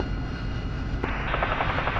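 A helicopter lifts off in a military video game, its steady rotor and engine roar loud and close, swelling brighter and fuller halfway through as it climbs.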